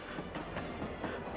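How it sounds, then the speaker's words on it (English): A moving train gives a steady rumbling roll with a faint rhythmic clickety-clack of wheels on rail joints, heard alone throughout. "Then the train started moving again."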